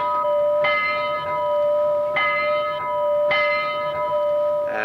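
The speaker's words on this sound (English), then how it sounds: "The bell is a regular old Portland bell here" A regular Portland railroad bell rings in three clear, evenly spaced strikes, each leaving a bright metallic tone that rings on between hits.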